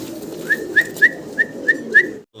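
Fancy pigeons give a run of six short, evenly spaced whistling calls over a low, continuous cooing murmur. The calls are close and clear, then stop abruptly.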